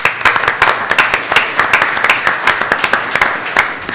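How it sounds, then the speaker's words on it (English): Audience at a brand-building talk claps for a guest, a lively round of applause with distinct, rhythmic hand claps close by and a faint crowd murmur underneath. "Can we get a round of applause?"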